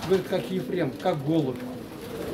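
Pigeons coo in a soft, rolling series of low throaty calls, close by, while someone talks over them.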